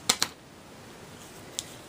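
Scissors snipping burlap ribbon, two quick crisp cuts close together followed by a third lone snip, faint and close in a quiet room.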